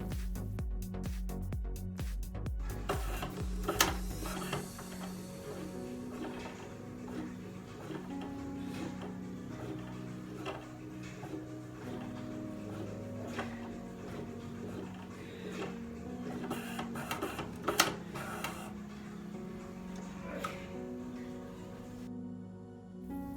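A nail printer whirs and ticks steadily as it prints, with small mechanical clicks and shifts throughout a long, continuous run.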